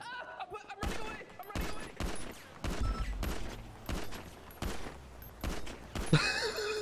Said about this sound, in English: I'm just shooting around him.